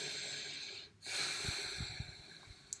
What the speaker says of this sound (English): Just breathe exclusively through your nose, and make sure they're deep breaths too.